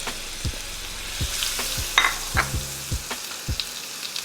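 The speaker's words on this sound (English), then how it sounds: "Once that butter melts, we're going in with our mushrooms first to let them cook down." Mushrooms frying in melted butter in a skillet, a soft steady sizzle under frequent spoon knocks and scrapes against the pan, with a couple of brighter crackles.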